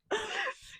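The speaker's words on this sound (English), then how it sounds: "Did you just cough into the microphone?" A single sharp cough lands close to the microphone, harsh and brief, followed by a short quiet breathy tail.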